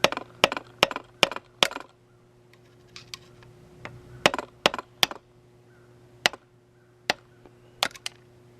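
Sharp metallic taps loosen the thrust plate on the water pump of a 2011 Yamaha F70 outboard, coming in quick bursts of several clicks, then spaced single knocks, close and crisp in a quiet room.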